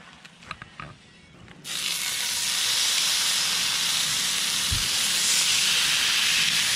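A steak seasoned with salt and pepper hits a hot skillet, with butter and rosemary nearby. After a brief quiet start, a loud, steady broadband sizzle erupts and holds close and constant to the end.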